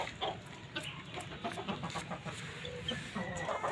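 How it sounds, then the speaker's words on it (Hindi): A young chick in a backyard pet flock gives soft, repeated clucks and chirps, fairly faint against a noisy background with other birds faintly audible. "आपको मैं सीधे चूज़ा भी दिखा देता हूँ माशाल्लाह"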